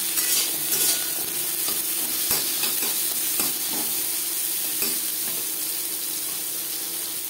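Jute stalks fry in a pan with a steady, bright sizzling hiss, punctuated now and then by light scrapes and clicks of a stirring utensil.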